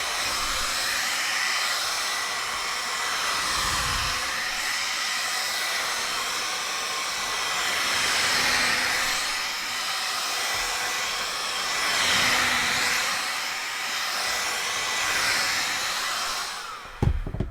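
A heat gun blows steadily while warming cosplay horn material, a continuous loud airy roar with slight swells in intensity, running nearly unbroken throughout before a short clatter at the very end.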